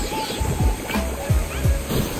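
Water waves lapping and sloshing in the Funky Fungi video game, Creamy Canyon level, with repeated soft surges about every half second under game music, while someone talks over them.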